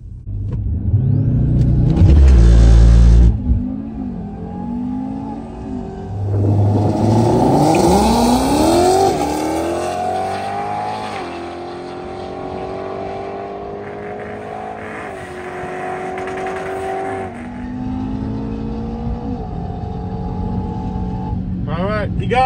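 A drag race car launches hard off the line at a Friday night drags event and accelerates down the strip, its engine roaring loud and close with rising, shifting pitch, a sustained rumble continuing after the initial burst.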